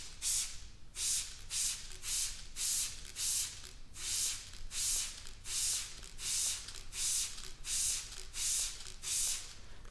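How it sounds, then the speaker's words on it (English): An IK Multi TR1 spray bottle set to a fine mist fires a steady series of short, crisp hissing sprays at an even rhythm, close and fairly loud, with no talk. "This is the mist that it creates."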